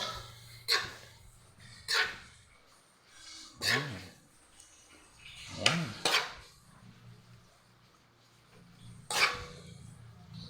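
Utensil tossing a fern salad with a sweet, mildly spicy sauce in a bowl, about six distinct clinking scrapes spaced a second or two apart, close and fairly loud.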